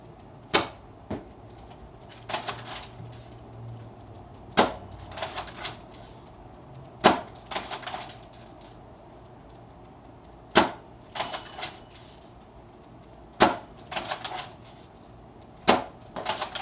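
An Adventure Force Nexus Pro foam dart blaster fires repeatedly, each shot a sharp snapping crack followed by short mechanical clatter, spaced a few seconds apart and close by.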